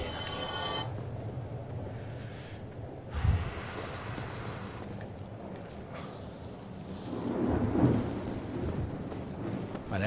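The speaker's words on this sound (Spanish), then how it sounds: "ahora está cayendo una tormenta aquí donde estoy ahora" A thunderstorm rages in Dark Souls Remastered: steady heavy rain hisses throughout while rumbling thunder swells twice, once near the start and again toward the end, with a brief bright crackle in between.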